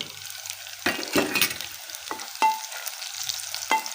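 Fenugreek seeds and cumin sizzling in hot oil while cooking turnip greens: a close, continuous crackling fry with repeated sharp spits and pops and a few stirring scrapes, no talk.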